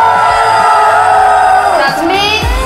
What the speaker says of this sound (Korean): 자, 여러분, 일단 큰 함성으로 한번 시작합시다.